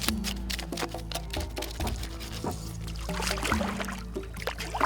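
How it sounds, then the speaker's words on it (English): Running water rinses scaled carp, a steady close pour and splash with shifting trickles and small knocks, with no talking over it. "Give them a bit of a wash."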